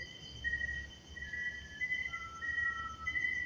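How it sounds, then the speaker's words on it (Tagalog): Faint, thin whistling tones drift at night in an abandoned place, a few steady pitched notes repeating over a low background hiss. "May sumisipol pa."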